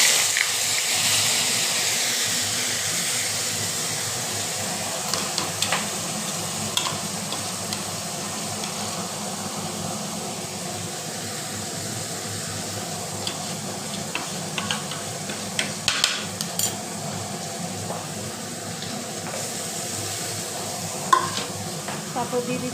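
Whole garam masala, onion, garlic, ginger paste, cumin, turmeric, chilli powder, bay leaf and salt sizzle in hot oil, a steady close hiss broken by scattered stirring clatters and spatula knocks, with a voice briefly under it.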